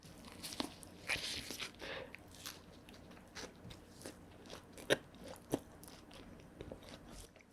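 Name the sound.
biting crunchy vegetables in a Lotteria shrimp burger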